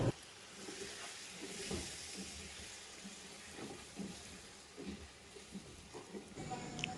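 Yogurt being stirred into fried onions in a pot for a large mutton biryani, a faint, soft wet sizzle with gentle scraping stirs, quiet and continuous without talk.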